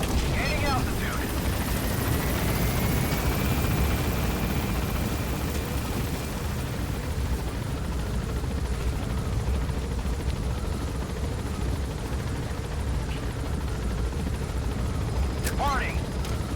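Helicopter gaining altitude in the Metal Gear Solid V video game, a loud continuous rotor and engine roar filling the whole stretch, with a faint rising whine early on and a couple of sharp bangs near the end.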